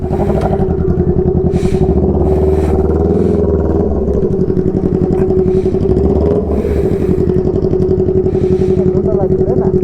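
A motorcycle carrying two tourists as passengers, its engine droning steadily and loudly up close throughout the ride, with wind rumble and occasional rattles, while people talk over the engine noise.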